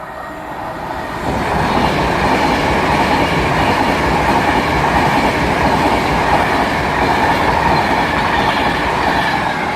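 A Virgin Pendolino Class 390 electric train, London Euston to Liverpool Lime Street service on the West Coast Main Line at Winsford station, passes through with a loud sustained rush and rhythmic wheel clatter building after the first second.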